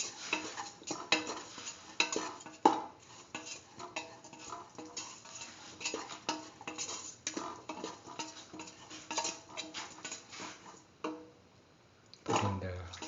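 Salt is stirred into split mung beans in a pan with a utensil, rapid irregular scraping and tapping against the metal, close by, with a short lull before a final louder scrape.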